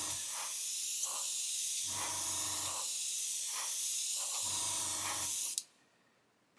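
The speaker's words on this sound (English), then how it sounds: "So I'm just going to spray this down" An airbrush sprays clear coat onto a model in a steady close hiss, with several short bursts of stronger spraying, cutting off abruptly near the end.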